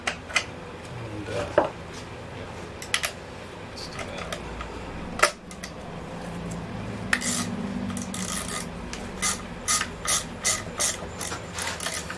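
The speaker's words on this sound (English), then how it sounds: "So we have two 25 screws we need to take out of here." Screws being taken out of a Weed Eater BC24W string trimmer, heard as scattered clicks and ratcheting bursts that turn into a quick rhythmic series of ratchet strokes near the end, close and fairly quiet, with no talk.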